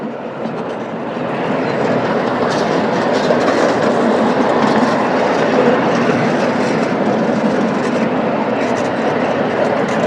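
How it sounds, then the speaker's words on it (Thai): A small electric tourist train runs through rice fields in Thailand, its wheels clacking steadily on the track with a continuous rumbling roll, heard close and loud for the whole stretch. "เหมือนรถไฟวิ่งจริงเลย"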